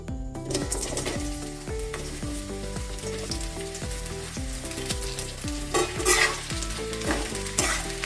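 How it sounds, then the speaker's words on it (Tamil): Cut bitter gourd hits hot sesame oil in a pan and fries with a steady, dense sizzle and crackle, nearby and continuous throughout, with occasional stirring scrapes and no voices. "எண்ணெய் காஞ்சோடு வெட்டி வச்சுருக்கிற இந்த பாவக்காயை அதில் போட்டுக்கலாம்"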